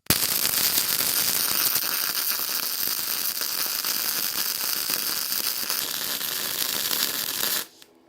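MIG welding at 200 amps with heavy spatter, a dense continuous crackling hiss held at steady loudness for about seven and a half seconds before cutting off abruptly.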